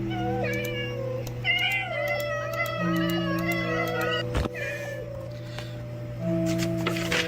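Cats meow repeatedly in the Minecraft video game, a run of close, drawn-out synthetic mews rising and falling over steady game tones, with a sharp click midway and no talking.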